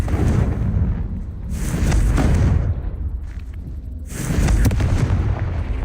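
Confringo fire spell explosions in the Hogwarts Legacy game: two loud, rumbling blasts, one swelling around 1.5–2.7 seconds and another from about 4 seconds, booming up close with no talking.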